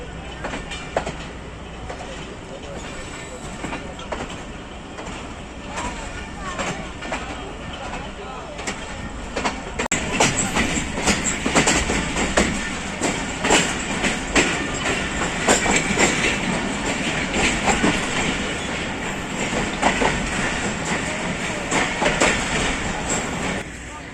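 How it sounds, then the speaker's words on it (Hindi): The Jaffar Express runs steadily on the rails, a loud, continuous rumble with rhythmic clickety-clack of wheels over joints, growing heavier partway through, with voices talking under it. "हमारी ट्रेन गुजरात से रवाना, जावर एक्सप्रेस, अगली मंजिल वज़ीराबाद जंक्शन"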